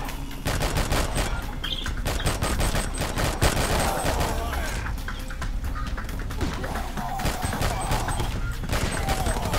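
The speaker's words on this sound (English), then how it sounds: "Hold on, I'm shooting men. I'm shooting women." Rapid gunfire bursts from shooting zombie-like enemies in the video game R.I.P.D., dense and continuous across the whole stretch with sharp repeated cracks, loud and close, occasional voices underneath.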